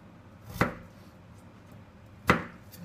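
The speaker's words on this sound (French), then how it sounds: "Du coup, je continue à couper tout ça. Un petit dé." Two separate, crisp knife chops on a cutting board while dicing food, spaced well apart and close by, with no talking.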